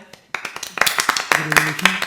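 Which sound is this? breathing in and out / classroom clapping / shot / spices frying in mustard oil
classroom clapping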